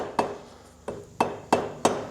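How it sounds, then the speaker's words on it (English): A plastic or hide hammer taps a part on a classic Triumph Trident T160 motorcycle, six sharp close knocks at an uneven, unhurried rhythm. "just use a plastic hammer always,"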